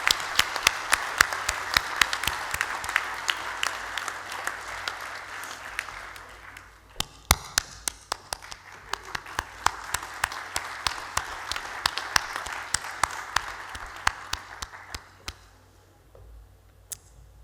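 Audience applause fills a hall at a Technion honorary fellowship award ceremony. It is sustained and fairly loud, with sharp individual claps, briefly dips near the middle, picks up again and then fades out toward the end.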